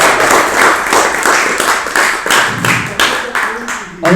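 A live audience claps together in a steady, fairly loud round of applause with rhythmic, evenly spaced beats, close and continuous for several seconds, with faint voices mixed in.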